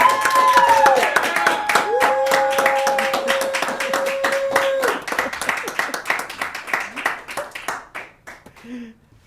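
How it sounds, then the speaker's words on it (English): A round of applause at a virtual charity gala, a small group clapping steadily and close, with brief tonal voice sounds over the start, then the claps thin out and fade to a few scattered hands. "let's give them a round of applause virtually here."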